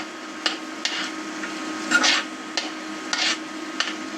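A spoon stirs and scrapes vegetables around a pan while they sauté for Maggi noodles, producing a series of close, irregular clatters over a faint background hum.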